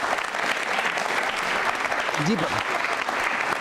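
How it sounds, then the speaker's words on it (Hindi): Loud, dense applause from the audience at a Jain Social Group quiz show carries on steadily, and a brief spoken word cuts through near the middle. "जोरों से, जोर से तालियां"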